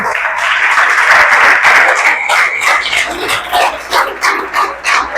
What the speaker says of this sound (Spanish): Así que damos un aplauso al Señor por cada mujer.